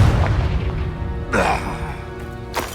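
A Confringo blasting curse explosion in the video game Hogwarts Legacy, a single booming blast with a crackling burst, then a second sharp hit shortly after, over a low rumbling combat background.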